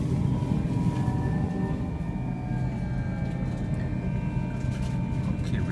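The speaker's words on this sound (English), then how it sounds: "we are just pulling up to the platform at Stratford International" A Hitachi Javelin high-speed train pulls into the platform at Stratford International, a steady low rumble with faint whining tones inside the carriage, quiet and continuous with no speech.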